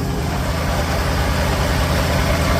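A Farmall H tractor engine running on its first drive after repairs, a loud, steady, close-up chugging rumble with no breaks.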